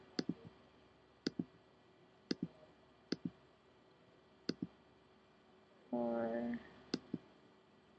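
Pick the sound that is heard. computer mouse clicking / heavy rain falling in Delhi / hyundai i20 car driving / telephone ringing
computer mouse clicking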